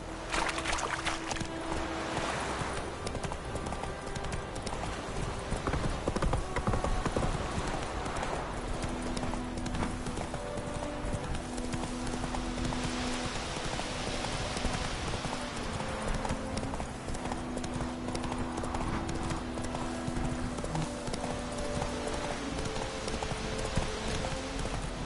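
Horse hooves clip-clop in The Witcher video game, a steady trotting rhythm over a busy, dense game soundscape with faint background tones.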